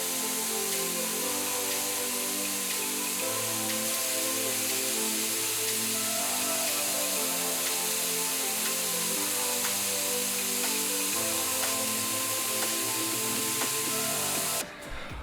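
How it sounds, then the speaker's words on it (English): An aerosol can sprays red Plasti Dip rubber coating onto a small test panel, giving a steady, loud hiss that runs almost unbroken for about fifteen seconds, with no talking over it. "I'm just gonna spray onto my little surface that I have set up here"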